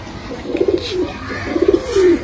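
Two soft, throaty coos from a Rampuri pigeon, a purebred female, sounding close and steady with a short pause between them and no voices present.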